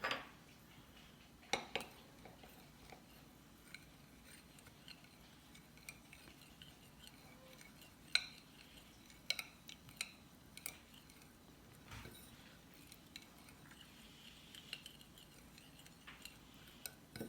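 A mixture being stirred in a bowl gives scattered faint clinks and taps of utensil against the dish over a quiet background, irregular and sparse, close but soft, with no speech.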